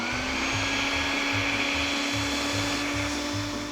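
An electric air pump inflates a MinniDip pool ring with a loud, steady whooshing roar and a low motor hum that runs unbroken throughout, close to the listener.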